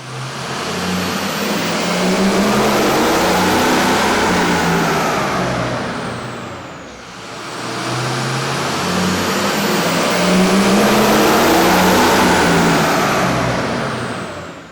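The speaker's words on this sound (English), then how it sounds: "With the air intake installed, we ran the vehicle on the dyno to test the sound comparison versus the stock intake." A Ford Super Duty V8 truck engine with a K&N air intake runs loud on a dyno, roaring through two long pulls with a brief dip between them; no talk.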